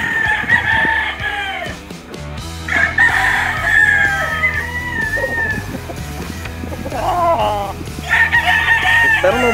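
A young rooster crows loudly and close by, several drawn-out cock-a-doodle calls rising and falling over farmyard clucking, with people talking in the background.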